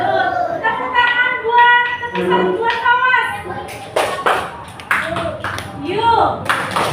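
Schoolchildren clap their hands in an irregular burst of classroom applause for a classmate, under an adult's voice and some children's chatter.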